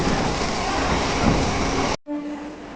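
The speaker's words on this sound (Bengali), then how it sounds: "ট্রেন ছেড়ে দিয়েছে, ট্রেন যাচ্ছে।" A train rumbles loudly and continuously for about two seconds, then cuts abruptly to a quieter background with a faint tone.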